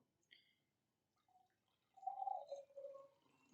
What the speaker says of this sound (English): I'm going to use this to pour.